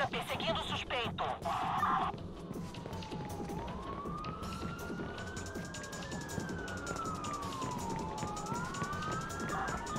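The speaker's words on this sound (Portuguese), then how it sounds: "Temos uma viatura perseguindo o suspeito." A police car siren wails in rising and falling sweeps during a chase in the Watch Dogs video game, faint and continuous, with a short burst of other game noise at the start and speech in places.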